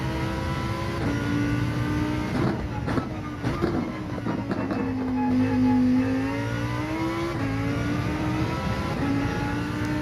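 Lamborghini Huracan race car engine lapping Catalunya in Gran Turismo 7, a loud, steady drone whose pitch rises and falls through gear changes and corners for the whole stretch.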